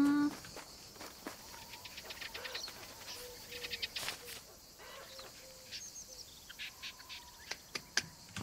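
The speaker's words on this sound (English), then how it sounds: "Look at that cooing. You're so loud." A bird coos in the video game Alba, soft tonal calls repeating at moderate volume amid brighter chirps and a steady patter of footsteps.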